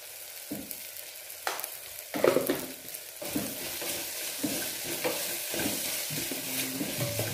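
Vegetables for a vegetable kurma sizzle and fry in a pan, with stirring clatters and scrapes recurring irregularly throughout, moderately loud and close with no talking.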